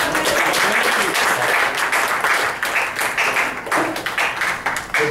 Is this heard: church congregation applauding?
yes